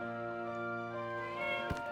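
A cat meowing in My Time at Portia, with a steady, tonal game sound that runs throughout and a brief soft thump near the end. No voices are heard.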